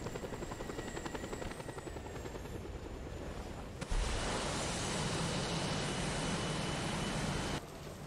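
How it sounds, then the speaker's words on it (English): A helicopter in the video game Just Cause 3 drones with a steady rotor chop, jumping abruptly louder halfway through as if passing close, then dropping slightly at the end; no talking. "Helicopter was just in front of you."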